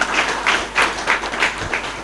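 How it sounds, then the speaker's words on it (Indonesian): Audience applause at an inauguration ceremony for student organisation officers at a Hindu college in Singaraja, a short burst of moderate crowd clapping heard alone. "Tepuk tangan untuk BEM dan BPM staff."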